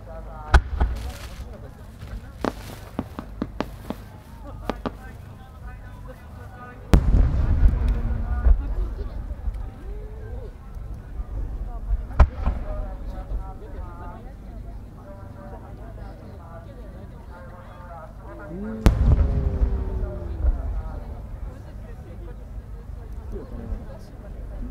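A large fireworks display at the Omagari competition by Katakai Enka Kogyo, with sharp booming bursts and crackling over a crowd, big blasts coming every few seconds amid a busy outdoor din.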